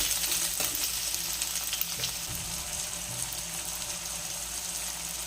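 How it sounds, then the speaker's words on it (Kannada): Green chillies, garlic and tomato fry in a pan, giving a steady close hiss of sizzling with faint stirring throughout and no voices. "ಹಸಿಮೆಣಸಿನ್ಕಾಯಿ, ಬೆಳ್ಳುಳ್ಳಿ, ಟೊಮ್ಯಾಟೊ ಇಷ್ಟನ್ನು ಹಾಕಿ ಸ್ವಲ್ಪ ಫ್ರೈ ಮಾಡ್ಕೊಳ್ಳೋಣ."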